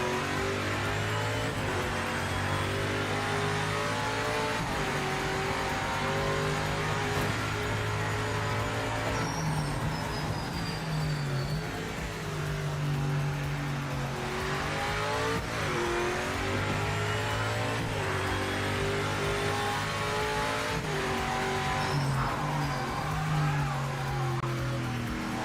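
Engines of LMP and other race cars in the Project Motor Racing video game, a loud continuous drone with repeated rising revs and gear-shift drops throughout, no speech heard.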